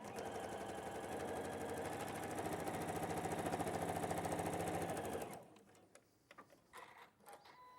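A sewing machine stitching a quarter-inch seam runs steadily for about five seconds with a fast, even mechanical chatter, then stops, leaving faint handling and clicks.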